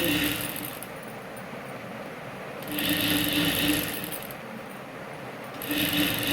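A sewing machine stitches cloth for a small outfit for a Ganesha idol, with a low running hum broken by two louder, rapid stitching bursts, heard up close and with no talking.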